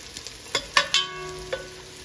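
Green chilies and a bay leaf sauteing in hot oil in a pan for a mutton yakhni pulao, a steady soft sizzle with a few sharp clinks and stirring scrapes near the mic.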